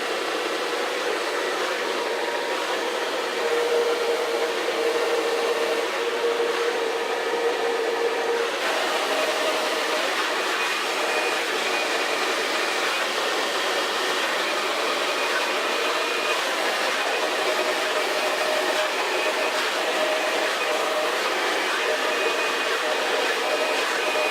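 A hair dryer fitted with a diffuser runs continuously at close range, a steady airy whine and rushing blow that stays level throughout with faint tonal hums.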